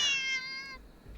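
A cat in an interactive story game lets out a single clear, harmonic meow that trails off after about a second, followed by a faint low thump.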